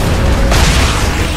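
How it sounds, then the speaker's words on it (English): Frag grenade blast in Gears of War: Judgment, set in the downtown Halvo Bay stage: one loud, dense explosion bursting over continuous heavy battle noise, with no talking. "Throwing frag!"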